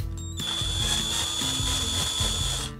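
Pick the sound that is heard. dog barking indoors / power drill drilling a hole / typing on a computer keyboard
power drill drilling a hole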